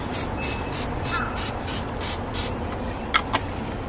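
Cooking spray from a can misted onto a raw spatchcock chicken before grilling, heard as a series of short, even hissing bursts close to the microphone, followed by a couple of faint clicks.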